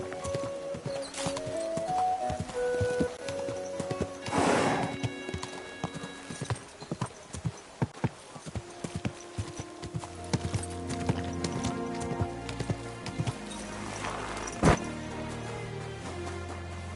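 Horse in the medieval game Kingdom Come: Deliverance 2, with rhythmic hooves clip-clopping on a path and a loud neigh around the middle, plus a second whinny later, over layered ambient music.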